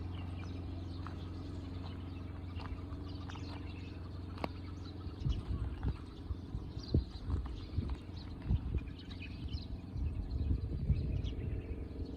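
A pet horse's hooves clip-clop on the ground at a mountain camping site in Hatta, United Arab Emirates: a scattered series of faint, irregular steps under a low steady background, with occasional soft bird chirps.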